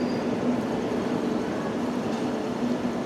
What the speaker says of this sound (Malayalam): അപ്പുറത്തെ കൂടെ ഒരു വാപ്സൺ ഹോൾ ട്രെയിൻ കയറി വരുന്ന കേട്ടോ